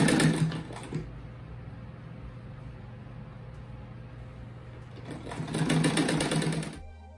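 A sewing machine stitches fabric strips for a fish-shaped rug, its motor whirring steadily up close, loudest in bursts at the start and end with a quieter hum between, no speech over it.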